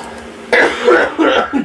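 A man coughs several times in a short burst of three or four harsh, close hacks while playing an NHL 14 ice hockey video game.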